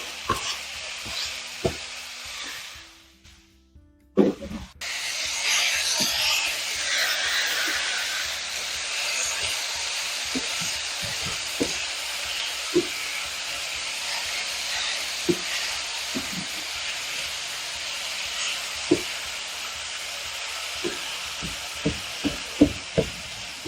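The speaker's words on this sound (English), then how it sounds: "While that meat's getting browned up" Meat browning in a pan for a cornbread casserole, a broad loud sizzle that dips briefly early on, then holds steady with scattered knocks and clicks of stirring.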